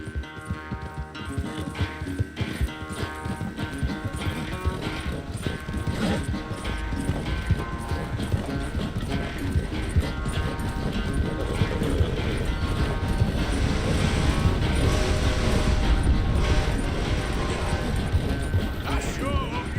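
Horse hooves gallop in Red Dead Redemption 2, a rapid steady clip-clop rhythm that builds in loudness over about twenty seconds, with tack rattling, game music and spoken dialogue over it.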